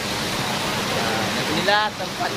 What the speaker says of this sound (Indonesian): kita lagi di tepat di samping daripada air terjun Lubuk Minyu